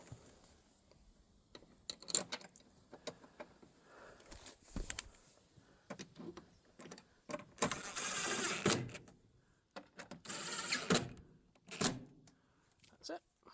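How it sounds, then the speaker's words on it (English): Screws going back into a van door lock make sparse, close metallic clicks and ticks separated by quiet gaps, with a few louder rattling bursts and some talking. "it's just a case of put these two screws back"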